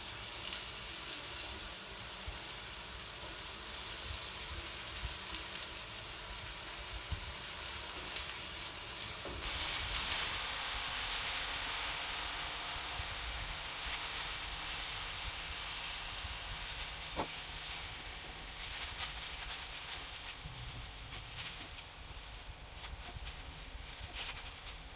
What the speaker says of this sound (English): it's important to wait that the oil is hot. And I put in the sliced mushrooms.